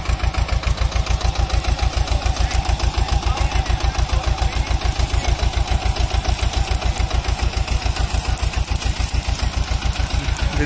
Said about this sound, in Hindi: Sonalika NT-30 four wheel drive 45 HP नांगर एट टेम्बूर्नी।